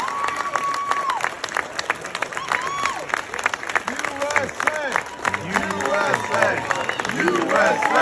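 A crowd applauds and cheers as Pete Hegseth walks into a Senate hearing room, loud sustained clapping with whoops, shouts and babbling voices throughout.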